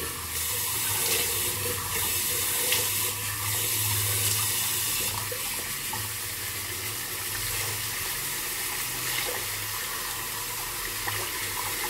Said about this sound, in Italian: Mi sciacquo con l'acqua fredda.